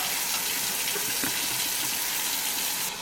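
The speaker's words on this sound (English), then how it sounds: "we're just going to wash the potatoes like this, and you just want to make sure you get the dirt off of it" Hot tap water runs steadily over potatoes being scrubbed clean of dirt in a kitchen sink, a continuous close splashing stream with small irregular spatters and no talk.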